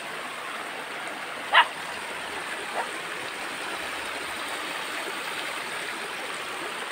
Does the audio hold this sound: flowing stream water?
yes